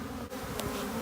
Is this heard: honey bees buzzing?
yes